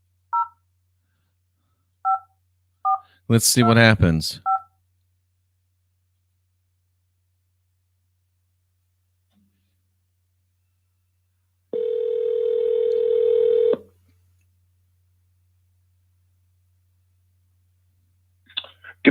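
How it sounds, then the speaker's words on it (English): A phone call placed through RingCentral: a few short dial tones, then a rapid burst of keypad tones, followed later by a single long ringback tone, with a brief spoken phrase in between. "So I'm going to call Bill"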